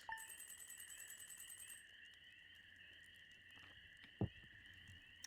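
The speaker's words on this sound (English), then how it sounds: "The, like, frog sounds on this screen remind me when I was a kid." Frogs croak in a Stardew Valley night scene, a repeating warbling call looping steadily over a soft game music bed and ambient hum, with one sharp click partway through.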